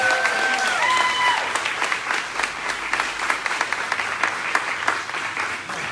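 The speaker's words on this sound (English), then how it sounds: "So let's give him one last round of applause." Audience applause for the mayor at a grand opening ribbon cutting, a steady dense round of clapping that holds strong and then thins toward the end.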